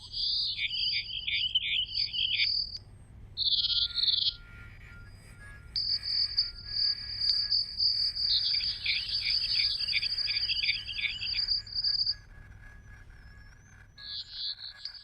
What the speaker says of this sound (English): The evolved sound, sometimes, is very similar to biological soundscape, consists of insects, birds, or frogs